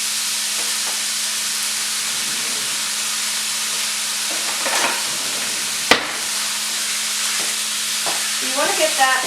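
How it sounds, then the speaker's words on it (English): Ground beef hamburger meat, 4.2 pounds, fries in its own fat in a pan with no added oil, giving a steady close sizzle with a sharp clatter midway and scraping stirs near the end. "You want to get that in your pan, and there's going to be enough fat in the hamburger that you do not need to add any oils"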